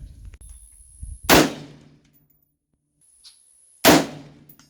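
Two sharp rifle shots ring out about two and a half seconds apart while zeroing at an outdoor shooting range, each a loud crack with a brief ringing tail, over faint background noise.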